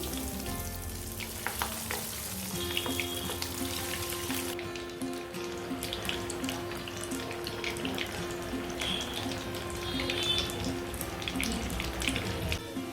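Potato bread nuggets frying in moderately hot oil make a steady, dense bubbling sizzle that continues at an even level throughout, with no talking.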